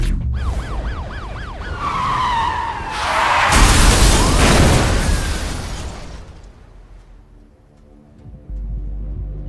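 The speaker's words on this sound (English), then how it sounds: "the racer known as Zephyr has just been involved in a horrific high-speed collision with local police units" High-speed car crash with police in Need for Speed Rivals: wailing sirens and tire screech give way to a loud crashing impact and roaring debris, which then fade to a quieter rumble.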